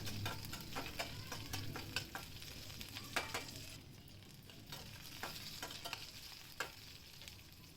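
Garlic and curry leaves fry in a pan with a steady close sizzle, broken by frequent crackling pops and scraping stirs throughout, with no talking.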